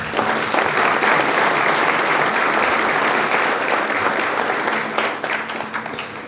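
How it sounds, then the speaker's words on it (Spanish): Sustained, dense applause from a large audience honoring Colombian coffee growers at an agriculture ministry event, steady and loud for several seconds before gradually thinning out. "un gran aplauso a todos los caficultores de Colombia"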